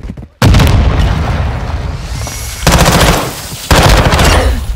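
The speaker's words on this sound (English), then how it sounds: "Throwing grenade!" A heavy grenade blast in Call of Duty: Modern Warfare II booms suddenly after a brief silence, followed by a long rumbling roar and further loud bursts of gunfire and impacts.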